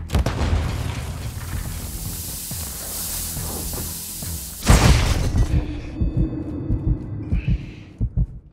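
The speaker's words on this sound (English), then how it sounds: "Stun grenade out!" A stun grenade goes off in Call of Duty multiplayer, a heavy booming blast mid-clip over ongoing gunfire and combat noise, followed by muffled thuds and a ringing, dulled aftermath.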